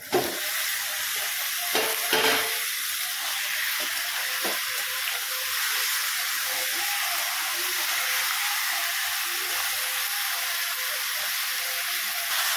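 Chicken hits a hot pan of dried ginger-garlic paste and onion for a dhaba-style curry, giving a loud, steady hiss and sizzle throughout, with a few stirring scrapes near the start.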